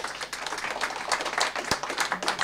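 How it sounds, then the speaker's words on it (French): An audience applauds a contributor at the close of a French public discussion on intermodal transport, a steady wash of clapping throughout with a brief sharper burst near the end. "vous pouvez l'applaudir pour"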